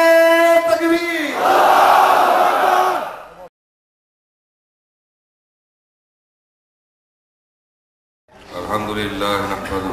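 A rally crowd of Zaker Party supporters roars a loud, massed takbir response for about three seconds, then falls silent before the cheering swells again near the end.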